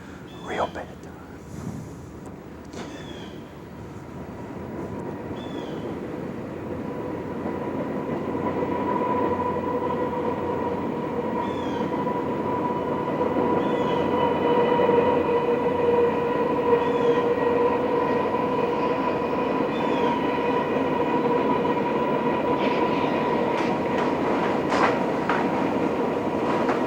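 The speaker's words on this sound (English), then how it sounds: "It's a bad time for a train to show up." A train passes through a deer-hunting area, its rumble and rail clatter swelling steadily louder and holding for a long stretch, with faint speech and brief squeals over the noise.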